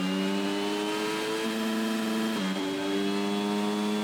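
Racing car engine in the F1 22 game suffering severe gearbox problems, a steady loud droning whine with a brief dip and shift in pitch midway, no voices.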